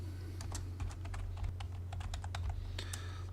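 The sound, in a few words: typing a shortcut on a computer keyboard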